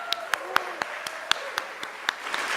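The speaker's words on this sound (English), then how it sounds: "Let's give Asim one more big round of applause." An awards-ceremony audience claps steadily, sharp individual claps standing out over a dense wash of applause filling the room.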